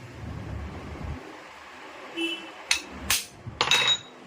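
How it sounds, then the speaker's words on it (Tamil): An impact driver works loose screws on a Hero Honda Splendor motorcycle engine being taken apart, giving a few short, loud bursts of hammering rattle near the end after a quieter lead-in of low rumbling background. "எவ்வளோ ஸ்லிப்பான ஸ்க்ரூவாக இருந்தாலும் இந்த இம்பேக்டை பொறுத்த வரைக்கும் நம்ம ஈஸியாகவே லூஸ் பண்ணிடலாம்"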